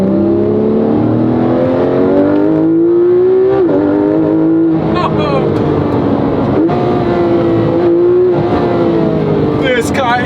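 Porsche 911 GT3 RS engine heard from inside while driving, a loud steady drone that climbs in pitch with brief dips at gear shifts, holding high revs through corners.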